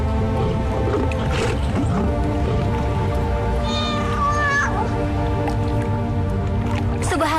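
A cat meows several times, with short rising cries standing out over a busy, loud background of music and other sounds in an animated film.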